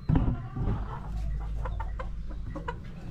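Young roosters and chickens cluck close by in a backyard pen, a cluster of short throaty calls over a low steady background hum.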